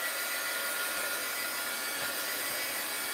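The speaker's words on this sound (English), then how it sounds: "Heat gun alert." A heat gun dries colored ink on a fast sketch, giving a steady, loud, close blowing roar that holds evenly throughout with no talking.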